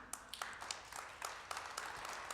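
A church congregation applauds during a Sunday service, a short run of scattered, irregular claps with a few sharper accents, moderately close and heard alone without speech.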